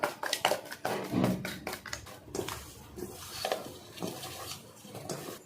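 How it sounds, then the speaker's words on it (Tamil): Spiced potatoes stirred with masala in a metal pan, a run of scraping clinks and soft thumps from the spoon that come in quick strokes at first, then slower and quieter, close and with no one talking. "எல்லா இடத்துலையும் மசாலா படுற மாதிரி கலந்து விட்டுறலாம்"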